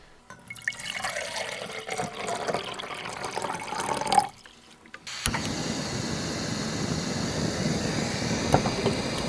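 Water poured out for a Farm to Summit double shot instant latte, a steady liquid rush that breaks off briefly midway and then resumes with a slightly different, busier texture.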